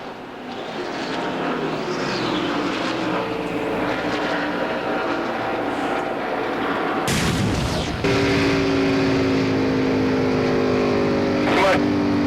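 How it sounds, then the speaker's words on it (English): An ARCA race car's engine fails at Michigan International Speedway: racing engines roar steadily, then a sudden sharp bang erupts midway, followed by a changed, harsher engine tone as a commentator's voice carries over the noise. "You blew the engine, Franco."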